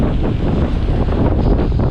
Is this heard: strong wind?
yes